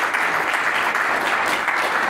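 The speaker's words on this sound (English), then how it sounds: "Would you guys mind applauding them?" An audience at a ticketing industry conference keynote applauds, giving sustained, even clapping that fills the room without a break.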